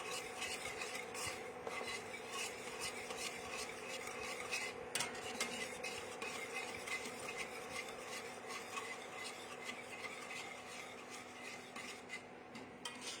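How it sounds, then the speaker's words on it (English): Polenta mixture thickening in a pot is whisked constantly, a steady close rhythmic scraping and swishing of the whisk against the pot's sides and edges, continuing evenly with no talking. "Make sure you get the edges along the way and you whisk constantly."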